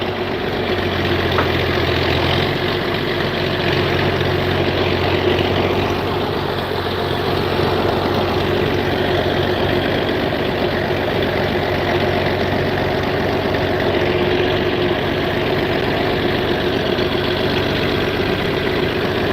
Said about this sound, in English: This is my favorite tractor to do hay on.